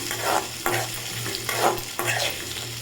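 Small shallots sautéed with fennel seeds in a pan for village-style chicken sukka, a loud close sizzle broken by four regular scraping strokes of the spoon, with no talk.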